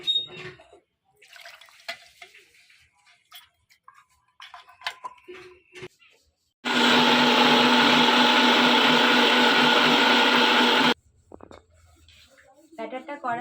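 An electric blender grinds soaked urad dal with a little semolina into batter, a loud continuous whirring roar of about four seconds that starts and stops abruptly, with sparse clinks and handling noises and someone speaking before and after.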